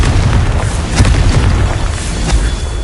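Fiery Confringo blasting spells explode in Hogwarts Legacy on PlayStation 4 Pro, loud booming bursts stacked over a dense, continuous rumble, with sharper blasts standing out near the start and again toward the end.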